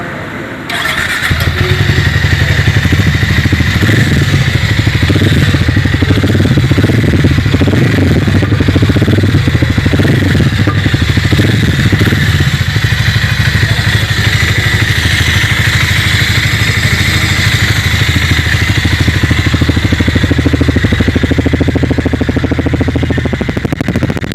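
A Hero Mavrick 440 motorcycle engine runs steadily and loudly for the whole stretch, with a deep rumbling exhaust note and mechanical clatter, no talking.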